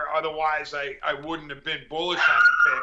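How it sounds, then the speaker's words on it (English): A dog barks and whimpers in high yips beneath steady talk, the canine sounds mixing with the voices and growing more prominent toward the end. "Sorry about the dog."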